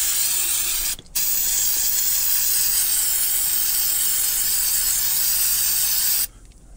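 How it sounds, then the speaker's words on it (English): A long continuous hiss of aerosol degreaser sprayed onto an ATV air filter, with a brief pause near the start and stopping near the end. "Just spray it on."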